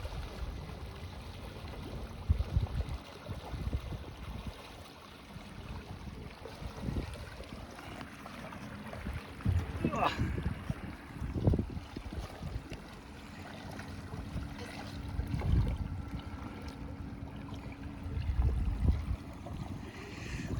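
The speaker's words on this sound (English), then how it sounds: "they are arriving momentarily here by Boston Whaler" A Boston Whaler motorboat's engine drones steadily with water sloshing and splashing around it, rising and falling as the boat draws nearer to dock.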